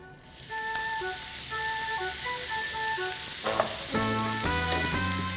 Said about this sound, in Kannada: ಈಗ ಎಣ್ಣೆ ಕಾದಿದೆ. ಇದಕ್ಕೆ ಜೀರಿಗೆ ಹಾಕೋಣ.